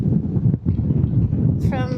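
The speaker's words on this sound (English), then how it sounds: "Oh, that was a very cold gust." A cold gust of wind buffets the microphone outdoors at a survey marker platform in Idaho, a loud, continuous low rumble with fluctuating surges, followed by a brief voice at the end.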